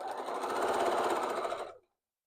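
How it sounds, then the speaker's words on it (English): A sewing machine runs in a fast, even rhythm while stitching elastic onto a kids Easter egg hunt apron, close and fairly loud for under two seconds before it stops abruptly. "My machine has an automatic setting that the needle stops in the down position each time."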